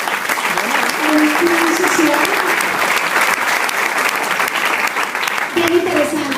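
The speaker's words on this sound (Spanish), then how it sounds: "eso realmente merece un aplauso" An audience breaks into loud, continuous applause during a Nutrilite ambassador's talk, thick clapping holding steady from start to finish, with a voice speaking briefly over it near the beginning and again at the end.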